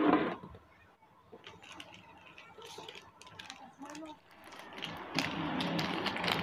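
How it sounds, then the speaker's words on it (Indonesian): Bolts are turned and ratcheted into a standing electric fan during assembly, producing faint close clicking and mechanical rattles, with a person talking over the work. "Kita baut dulu ya biar aman ya, kalau enggak ini bahaya."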